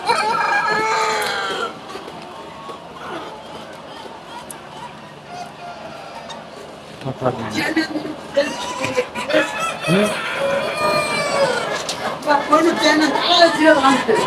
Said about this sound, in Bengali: তো গাইস দেখতে পাচ্ছেন এখানে অনেকগুলো মুরগি রয়েছে